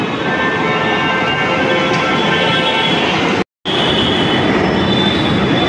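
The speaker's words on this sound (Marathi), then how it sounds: "तुम्हाला बेस्ट ऑप्शन म्हणजे हा अंडरग्राऊंड मेट्रो आहे" A Mumbai underground metro train on Aqua Line 3 roars loudly and steadily in a tunnel. Thin squealing wheel tones ride over the constant rumble, and the sound cuts out for a moment before resuming.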